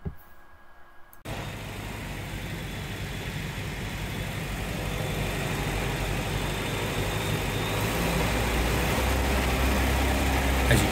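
Land Rover Series III engine fitted with a new Weber carburettor, running poorly, chugs steadily and fairly close after a quiet start, its rough idle building slightly in loudness over about ten seconds with no talking.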